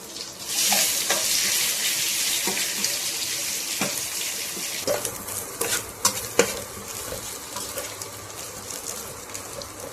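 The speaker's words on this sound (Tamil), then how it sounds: "ஃபஸ்ட்டு ஆனியனை போட்டு பொன்னிறமாக வதக்கணும்" Onions frying in a pan until golden for chicken, with a loud, dense sizzle that eases slightly over time and sharp clicks and scrapes of stirring near the middle.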